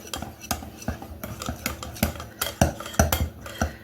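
Cinnamon roll dough worked by hand with a spatula in a bowl, with a series of sharp, fairly close scraping and clacking strokes at an uneven rhythm and no talking.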